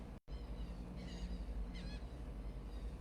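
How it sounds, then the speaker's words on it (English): Faint birdsong drifts in from outside a seaside condo balcony lined with palm trees: two short, high chirping phrases over a low background hum, soft and distant. "Can you hear the birds in the background?"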